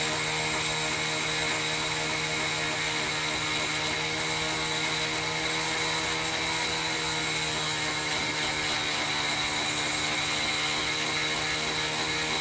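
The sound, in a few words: Dremel rotary tool cleaning a slot car part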